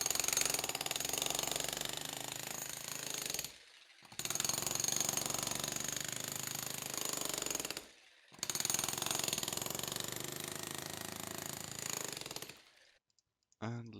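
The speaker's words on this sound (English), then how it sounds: "And if we proceed to the jackhammer" Loud jackhammer pounding in three long bursts separated by brief pauses, a harsh rapid mechanical rattle.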